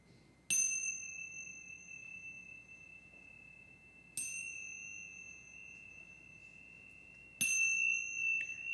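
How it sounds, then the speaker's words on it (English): Three clear meditation chime strikes ring out at even intervals, each a bright ding with a long sustained tone that slowly fades before the next strike, in an otherwise quiet room. "You'll hear 3 chimes to start and 1 chime to end."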